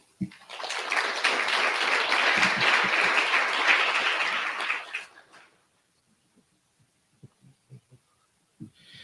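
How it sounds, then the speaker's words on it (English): A roomful of people at a mental health forum breaks into applause, a full burst of clapping that lasts about five seconds, then cuts off, leaving a few faint scattered knocks and movements in a quiet room. "Please provide a round of applause"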